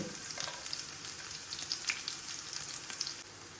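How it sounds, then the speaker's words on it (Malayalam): Mustard seeds and curry leaves fry in hot oil in a pan with a lively, crackling sizzle full of quick pops and spatters, close and steady, with no voices. "കത്തിച്ച് പാൻ അടുപ്പിൽ വെച്ച് എണ്ണ ഒഴിച്ച് എണ്ണ ചൂടായിട്ടുണ്ട്. ഇനി കടുക് ഇടാം."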